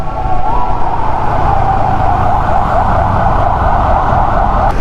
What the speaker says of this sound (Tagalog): oh may wangwang -wang.